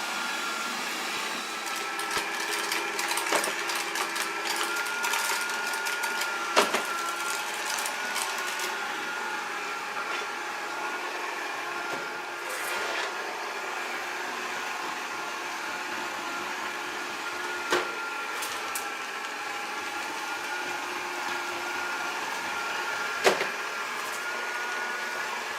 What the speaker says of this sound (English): So the vacuum has made its way to the next room, working away